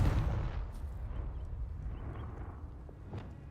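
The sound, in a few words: Confringo spell blast, from video game Hogwarts Legacy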